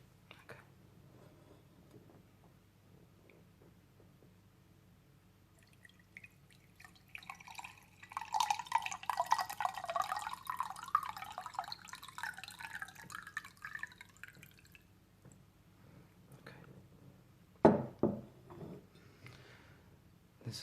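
Water pours into a glass during a soft-spoken Dutch medical examination role-play, a quiet dripping and trickling stream building in the middle and then tapering off, ending with a single sharp clink.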